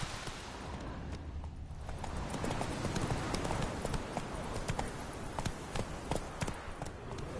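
Roach, the horse in The Witcher 3, gallops in a steady rapid rhythm of close hoofbeats on the ground, continuing for several seconds over a constant wind-like hiss.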